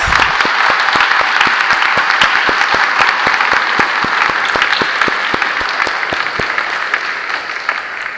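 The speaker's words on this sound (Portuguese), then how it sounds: "Palmas para todos os pais e também para o Grupo Vocal Kairos." Sustained applause from a church congregation at a Sunday worship service, honoring the fathers and the Kairos vocal group; dense, steady clapping with sharp individual claps standing out, holding loud for about eight seconds before easing slightly.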